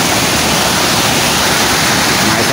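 Alegria Falls in Surigao del Norte roars as a dense, steady wash of falling water, loud and close, with no talk over it.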